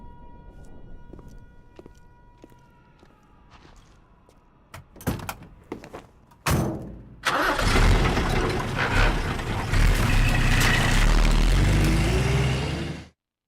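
In a hangar in the video game Metal Gear Solid 3, a few clanks and knocks lead into a vehicle engine roaring to life, a loud, dense, sustained rumble that runs for several seconds before cutting off abruptly.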